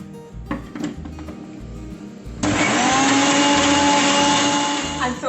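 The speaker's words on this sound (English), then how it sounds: "let's give it a good blend." Blender whirring homemade vegan Nutella ingredients, opening with some handling knocks before the motor kicks in loud and steady, a close, high-pitched whine that runs to the end.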